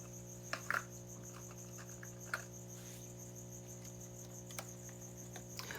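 Crickets chirp inside a reptile enclosure, steady high-pitched trilling running throughout alongside a constant low electrical hum, with a few faint soft clicks and taps, quiet and close.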